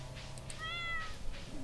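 A cat meows once in the Stardew Valley farming game, a short, faint, rising-falling cry over a low background hum.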